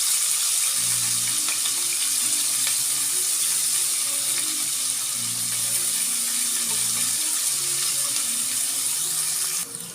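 Onions sprinkled with salt sauté in a pan for vegetable fried rice, giving a steady, close sizzle that runs unbroken for the whole stretch, with a faint low tonal hum underneath.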